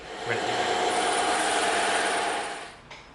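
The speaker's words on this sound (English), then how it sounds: "We're gonna cut right down these two side cuts so we've got a nice flat edge." A blade slices steadily through a slab of EVA foam, trimming a flat side edge for a Lego-style Rocket Raccoon blaster prop; a continuous close rasping scrape for about two and a half seconds, then a brief final stroke.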